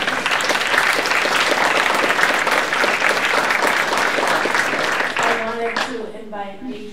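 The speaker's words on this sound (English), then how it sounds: "Big round of applause." Dense, loud audience applause fills a community history event, steady and sustained for about five seconds before fading as a voice begins speaking at the end.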